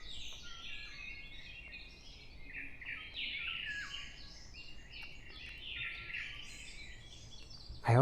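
Birdsong fills a forest on an early morning walk, with many small birds chirping and trilling in overlapping, moderately distant phrases, steady and unbroken, with a brief louder thump at the very end.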